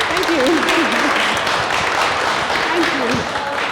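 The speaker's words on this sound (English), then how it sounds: "A big round of applause, please." An audience applauds after an author's reading of a children's book. Loud, continuous clapping fills the room, and voices talk over it with rising and falling tones.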